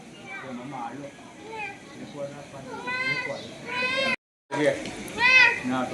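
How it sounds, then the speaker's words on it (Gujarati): A cat meows a few times, rising and falling, amid children's chatter and nearby voices. "જો વાસે મીંદડી આવી"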